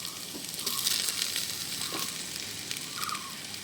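Onions and vegetables frying in a pan for chicken biryani, with a steady close sizzle throughout and occasional stirring scrapes.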